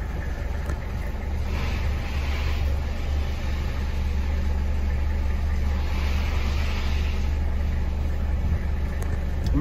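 A 1979 Mercedes-Benz 300SD turbo diesel idles steadily, with a low, even engine rumble heard up close and a constant background hum and no speech.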